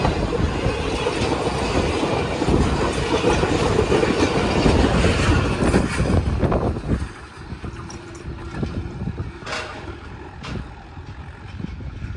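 A high-speed train thunders through the Lalamusa level crossing, close and loud, with a dense rumble and clatter of wheels for about seven seconds. The noise then drops to a fainter rolling rattle and squeal as the train moves away.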